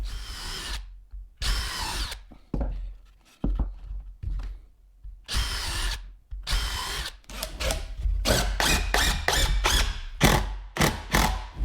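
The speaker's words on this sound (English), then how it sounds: "Gonna drill a pile of holes since it's close to the edge." Power drill boring a series of holes into wood near the edge of a board for a backyard pond fountain box, with repeated close, loud whirring bursts that start and stop, the later ones quick and closely spaced.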